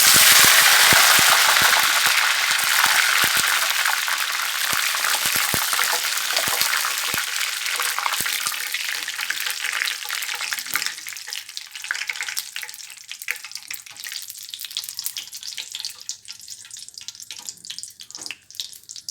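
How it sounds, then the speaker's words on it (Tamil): Loud crackling sizzle of curry leaves frying in hot oil in a strainer, intense at first and gradually quieting as the spattering dies down. "வடிகட்டிலேயே நம்ம கருவேப்பிலையை போட்டு பொறிச்சு எடுத்துவோம்"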